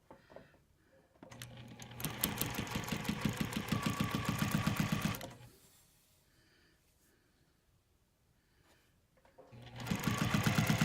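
A sewing machine runs in two bursts, stitching a quarter-inch seam on a quilt's binding and sleeve. Its rapid needle chatter is close and steady, with a quiet pause between the runs.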